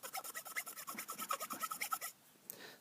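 A metal file rasps across a wooden tobacco pipe being carved freehand, making about twenty quick, even back-and-forth strokes at close range before stopping abruptly, with no talking.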